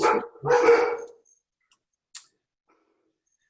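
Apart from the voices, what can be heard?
dog barking, a dog under stress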